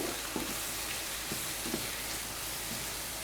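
Food sizzles steadily in a hot frying pan, a dense hiss with a few soft utensil taps, heard close and alone; mushrooms are cooking for a mustard pasta dish served with chicken fillet.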